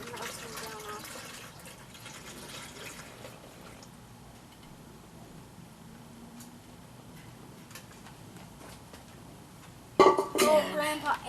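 Homemade root beer poured into a container until it is very full, a soft, steady trickle of liquid at close range with faint background talk, ending in louder clattering handling noise.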